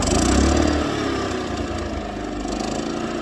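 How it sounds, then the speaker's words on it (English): A Champion 3400 portable generator idles close by, giving a steady, rumbling engine drone that stays even throughout with no other sounds. "So there's the Champion running at idle."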